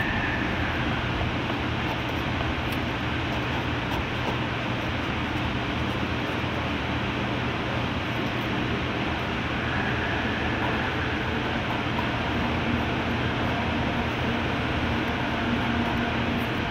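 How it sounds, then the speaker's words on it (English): The AirTrain JFK on the Jamaica loop at the airport gives a continuous low rumble and hum heard from inside the car, steady for the whole stretch with no announcements or talk. "This train on track 1 is a Jamaica train, stopping at airline terminals 4, 5, 7, and 8."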